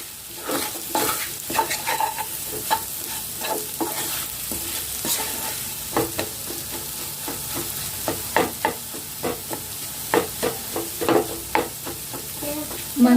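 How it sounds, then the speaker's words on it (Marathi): Moong dal halwa roasting in ghee is stirred with a spoon at close range, giving repeated uneven scrapes and knocks against the pan over a low, continuous sizzle. "वरतीच आपल्याला हा भाजून घ्यायचा आहे म्हणजे काय होईल मूग डाळ छान भाजेल"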